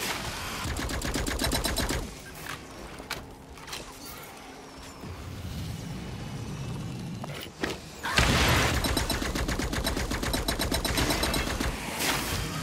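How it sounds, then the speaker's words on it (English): Grenade blasts and rapid automatic gunfire in Firefall: dense bursts of rattling shots at the start and again in a loud sustained stretch later, with thumping impacts in between. "Engage targets with grenades, then finish them with your gun."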